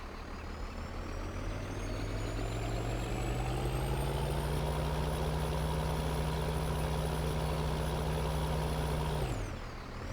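A truck engine idles steadily in Farming Simulator 2013, a deep, constant drone with a faint high whine. It rises slightly in pitch partway through and stops abruptly near the end, with no talking.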